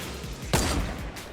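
Pumpkin RPG rocket launcher from Fortnite firing once, a sharp blast around the midpoint over a steady low rumble, followed by a decaying tail.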